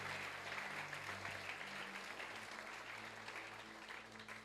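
A Sunday church congregation breaks into sustained, dense applause, loud and steady throughout, with no talk above it.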